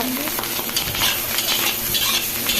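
Basmati rice with already-cooked chicken is stirred and fried in hot oil in a pan, with continuous sizzling under scraping spoon strokes, close and fairly loud, with no voices.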